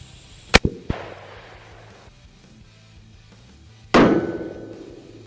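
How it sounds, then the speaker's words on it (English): A Ruger Redhawk .44 Magnum revolver fires into drywall outdoors, with a sharp crack and quick follow-up knocks near the start, then a louder blast whose echo trails off, close and with no speech. "gonna shoot this Ruger Red Hawk 44 Magnum, see what happens with it"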